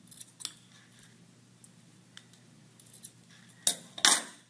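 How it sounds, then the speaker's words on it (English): Scissors trimming the edges of a homemade iPad stylus, a few faint snips early on, then two sharp, loud cuts close together at the end, with no talking. "You can trim the edges and make it pretty."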